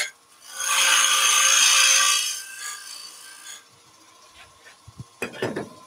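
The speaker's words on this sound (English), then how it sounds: "Let's go with parting tool to start off with, just to get to depth." A parting tool cuts a shallow recess into wood spinning on a lathe, making a bright, raspy scraping burst for about two seconds that then fades, followed by a few faint knocks and clicks.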